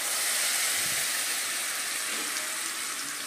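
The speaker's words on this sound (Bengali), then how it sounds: "এবার ফ্রাই প্যানে ওই তেলের মধ্যেই প্রথমে পেঁয়াজ বাটাটাকে দিয়ে দিলাম।" Onion paste fries in hot oil in a frying pan for a Bengali rui fish curry, giving a steady, loud, dense sizzle that hisses continuously throughout without pause.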